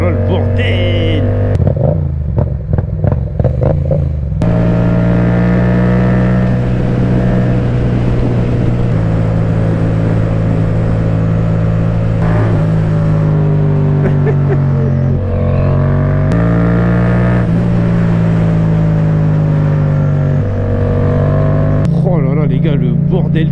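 Yamaha MT motorcycle engine revving, a loud steady harmonic drone that rises and falls in pitch across the clip, with short sharper blips near the start and end.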